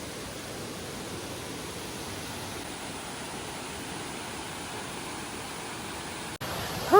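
Steady broadband rush of a waterfall beside a busy hiking trail in Tennessee, a constant even roar filling the scene, cut by a brief break and a few faint tonal chirps near the end.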